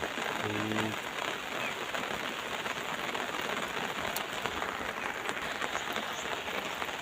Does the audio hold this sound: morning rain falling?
yes